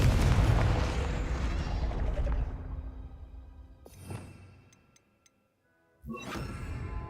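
A Confringo fire spell in Hogwarts Legacy goes off as a loud, crackling magical blast with a sustained roar that fades out, then a second sharp burst arrives, followed by a short silence and another loud crackling blast.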